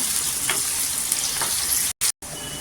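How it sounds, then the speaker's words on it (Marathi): Onion is sautéed in oil for a dried-fish chutney, giving a loud, continuous hissing sizzle that cuts out briefly twice near the end. "आणि सोनेरी कलरवर छान असं तेलावर परतून घ्यायचं."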